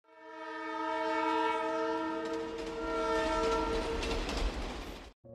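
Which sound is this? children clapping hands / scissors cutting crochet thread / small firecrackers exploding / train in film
train in film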